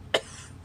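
One short, sharp cough from a sick hiker close by on the Pacific Crest Trail, standing out against a low background hum.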